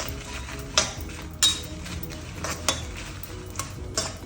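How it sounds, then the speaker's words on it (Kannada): Green chillies fry in oil in a pan, a low continuous sizzle broken by several sharp scrapes and clinks of a spoon against metal at irregular intervals, with no voices. "ಈಗ ಮೆಣಸಿನ್ಕಾಯಿ ಫ್ರೈ ಮಾಡ್ಕೊಳ್ಳೋಣ. ಇದಕ್ಕೆ ಎಣ್ಣೆ ಹಾಕ್ಕೊಳ್ಳೋಣ"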